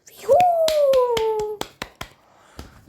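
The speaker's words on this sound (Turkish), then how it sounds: "Alkışladım." Sharp hand claps ring out in a quick, slightly uneven series of about ten, close and crisp, while a voice makes a drawn-out tonal call over the first half.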